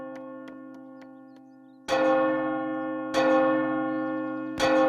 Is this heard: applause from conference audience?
no